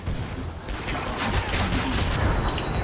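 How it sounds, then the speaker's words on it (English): Dense gunfire in the video game Killing Floor 2, a continuous loud barrage of overlapping shots and blasts running throughout without a break. "Stop shooting him."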